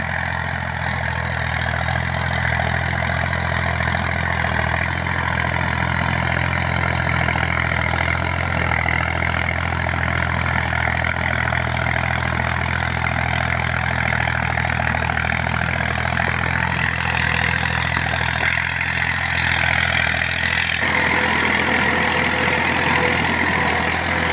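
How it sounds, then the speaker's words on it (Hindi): A tractor pulling a plough across a farm field after a berseem crop was cut, its engine droning steadily and loudly at close range with a slight shift in tone near the end. "जहां फसल की तैयारी के लिए ट्रैक्टर की मदद से हल चलाया जा रहा है"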